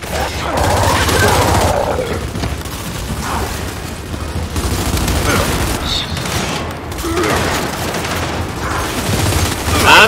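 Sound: gunfire in the video game Gears 5

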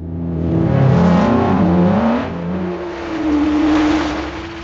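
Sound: AI-generated sound of a racing car passing by

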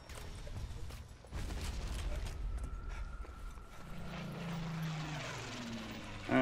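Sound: airplanes flying overhead in Zombie Army Trilogy video game

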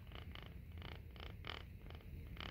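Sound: toy cats purring

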